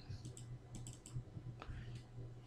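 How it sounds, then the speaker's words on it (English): Quick clicking keystrokes on a computer keyboard as a PowerShell command is typed, a fast irregular run of close taps over a low steady hum. "you're gonna type in set-executionpolicy"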